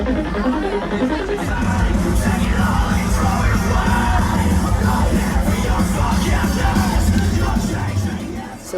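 A dense festival crowd at the Lost Lands music festival roars continuously, with yells, whoops and cheering blending into a loud, sustained wall of noise from many voices.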